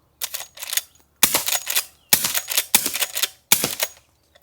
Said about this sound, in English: all I hear is the hammer drop and click there, and then a thud on dirt.